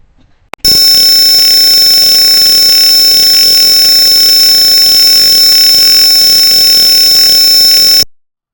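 A loud, shrill simulated piezo buzzer alarm from a Tinkercad Arduino gas-sensor circuit sounds continuously for several seconds, a steady high-pitched tone that starts abruptly and cuts off just as suddenly.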